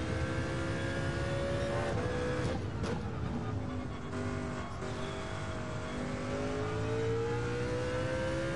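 A race car in Gran Turismo 7, driven from the cockpit view and held in second gear, revs high with a continuous droning engine note that climbs and dips in pitch. It stays loud and alone, with no talk over it.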